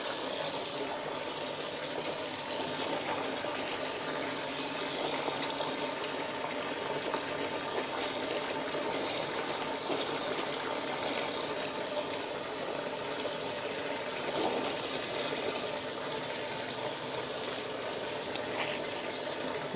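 Water runs steadily and fills a tub as laundry is rinsed in clean water at home, a continuous broadband splashing rush that stays fairly loud and even throughout, with no talking.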